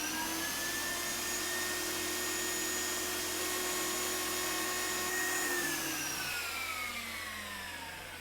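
A Delta ShopMaster table saw runs loud and steady with a bright whine, heard from about 30 inches in front of the blade, then begins to spin down near the end with no voices.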